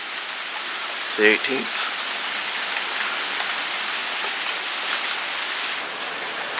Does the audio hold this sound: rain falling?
yes